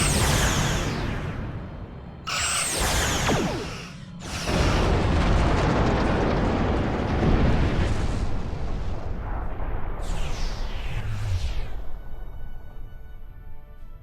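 Starship weapons fire and explosions roar in the Star Trek Online video game. Loud, dense booms and bursts follow one another with sweeping whooshes, filling the space continuously with no one talking.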